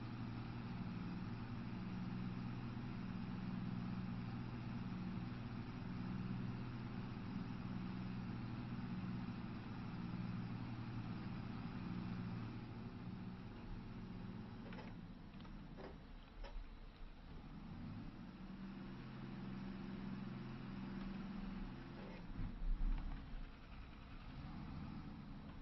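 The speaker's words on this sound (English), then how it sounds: "Do you hear that back axle whining on this?" A tractor drives along a field headland, its engine droning steadily with a thin whine from the back axle running beneath, a brief clattering break midway before the steady drone returns.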